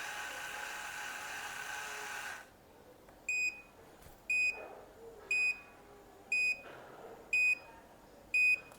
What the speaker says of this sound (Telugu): అట్లా బీప్ సౌండ్ వచ్చిన తర్వాత మనం తీసేయచ్చు.